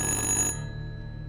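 An old telephone rings inside the horror video game Little Hope, a bright electronic ring that sounds once and then cuts off abruptly, leaving a low hum.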